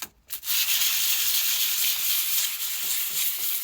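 Steady abrasive rubbing as rust is scrubbed by hand from a vintage Disston handsaw, a continuous gritty scratch that follows a brief opening scrape, close and fairly loud with no talking.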